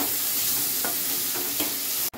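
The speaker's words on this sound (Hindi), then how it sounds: "2 बड़े साइज के प्याज को मैंने स्लाइस किया हो बारीक बारीक, ऐसे मसल के मैं ऑयल में डाल रही हूँ।" Two large finely sliced onions frying in oil in a kadai for a white mutton pulao, giving a loud, dense, continuous sizzle with faint stirring scrapes and a brief bump near the end.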